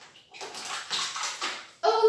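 An owl bathing in water in a tub, with soft splashing and sloshing rising and falling in bursts, then a brighter, louder splash near the end.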